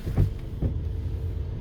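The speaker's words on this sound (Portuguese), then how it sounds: "Ela tem um barulho como se fosse de volante bimassa." A Volkswagen Amarok with a slipping clutch at 77,000 km runs with a low rumbling engine noise suggesting a worn dual-mass flywheel, steady and close, with a couple of brief heavier thumps early on.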